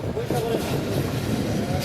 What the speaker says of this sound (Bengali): ট্রেনে করে যাওয়া হচ্ছে ময়মনসিং